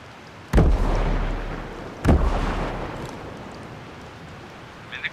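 Two heavy booming blasts of gunfire and a frag grenade in Ghost Recon Breakpoint PvP, each a sharp loud hit trailing into a long rumbling decay, with faint clicks near the end.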